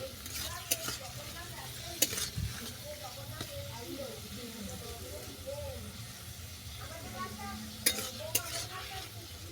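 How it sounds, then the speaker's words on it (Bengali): Onion fries lightly in a pan, a close, continuous sizzle broken by scraping stirs and a few sharp clinks of the utensil, with a faint voice in the background. "পেঁয়াজটাকে হালকা করে ভেজে নেব"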